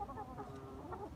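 Chickens cluck softly in a backyard coop, a few short overlapping clucks close by over low ambient murmur.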